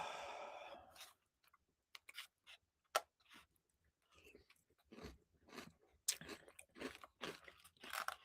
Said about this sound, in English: eating cereal while I'm on live